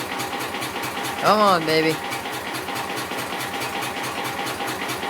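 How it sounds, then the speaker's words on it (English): A tractor engine on a cold start idles with a rough, rapid knocking chug, close and steady throughout, while someone briefly speaks over it. "This is definitely a cold start."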